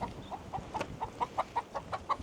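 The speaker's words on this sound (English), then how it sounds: "even when they're bucking and clucking all scared" Frightened chickens cluck in a quick, steady run of short, fairly faint clucks, one after another, with no talking.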